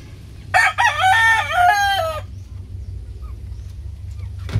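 A Sweater gamecock rooster gives one loud, close crow lasting under two seconds, then quieter clucking and yard noise over a low steady hum.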